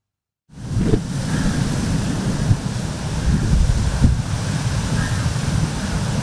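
Heavy sea surges pound the shore at Kannamali, Ernakulam, during strong monsoon rain. A continuous near roar of surf mixes with wind buffeting the microphone, with a few louder crashes. No voices.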